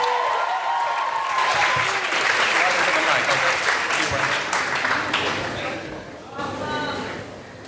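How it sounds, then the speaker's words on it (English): A crowd at a rooftop poetry and music event in the UAE gives a big round of applause, sustained clapping and some cheering that swells and then fades near the end. "That means we need a big round of applause for Miss Atma."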